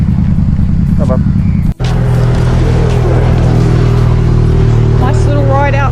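A motorcycle engine rumbles loudly and continuously up close while riding on the road, with a brief dropout, and a voice speaks over the engine noise.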